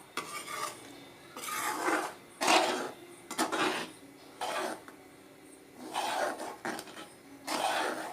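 Egg curry being stirred in a pan, a series of rough scraping strokes of a utensil against the metal, coming in bursts with short pauses between them, close and clear.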